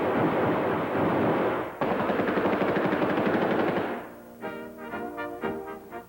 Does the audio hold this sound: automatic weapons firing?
yes